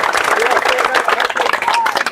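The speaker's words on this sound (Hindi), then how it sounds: "22 तारीख से आप इस पर ताली बजाइए कम से कम।" Crowd applause at a BJP political speech beside a Shiva temple in Baikunthpur: dense, steady clapping from many hands, fairly loud and continuous with a faint murmur of voices through it.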